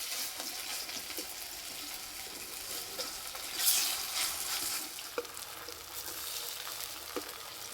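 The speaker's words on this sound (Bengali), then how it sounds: "এই পিঠ ওপিঠ ভালো করে ভেজে নেব।" Spicy cabbage fritters fry in hot oil with a steady, close crackling sizzle, broken by occasional sharper pops and a brief louder burst.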